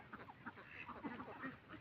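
Ducks on a duck farm, egg-laying birds kept together in one place, give soft, scattered quacks at a distance, several calls overlapping at low volume.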